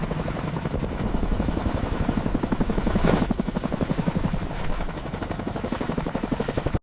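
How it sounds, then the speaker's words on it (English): A Boeing CH-47 Chinook transport helicopter, from the United States in 1962, thumping with a loud rapid rotor beat over a steady engine whine, sustained and close throughout. "Boeing CH-47 Chinook type, transport helicopter origin, United States, 1962."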